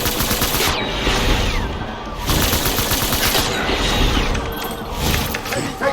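Gunfire in the Death Stranding video game rattles loud and close in long, dense automatic bursts. It barely breaks across the whole stretch, with short dips between volleys and mechanical clatter mixed in.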